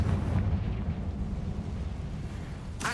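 A Confringo explosion spell cast in a video game, a continuous loud rumbling blast with deep low roar that fills the whole span before a sharp bright burst near the end.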